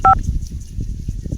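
A single sharp telephone keypad tone sounds at the very start, then only faint low rustling follows.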